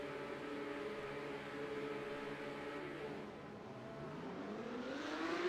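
Race car engines in iRacing at Circuit de Barcelona-Catalunya, a steady droning pack of engines holding pitch, then rising together as the field pulls away at the start, loud and continuous with no talk.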